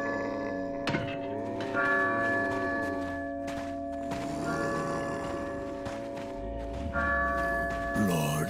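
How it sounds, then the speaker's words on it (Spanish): A church bell tolls repeatedly in Resident Evil 4, each strike ringing out with a long, resonant decay over steady game ambience and music, loud and close. "Oh, la campana. Es hora de rezar."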